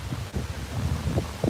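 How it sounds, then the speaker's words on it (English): Strong outdoor wind buffets the microphone in uneven low rumbling gusts, with a sharper burst near the end; no voices are heard. "Holy crap, it's windy out here."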